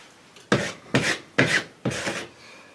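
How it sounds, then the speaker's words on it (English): Drywall joint compound being scraped off a patched hole with a metal blade: four distinct rasping strokes in a steady rhythm, close and fairly loud, with no talk. "scrape that off"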